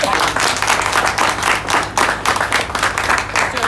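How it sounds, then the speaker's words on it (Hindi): A crowd at a birthday celebration breaks into loud, hearty applause, a dense, sustained round of clapping that carries on steadily throughout. "एक बार जोरदार तालियां।"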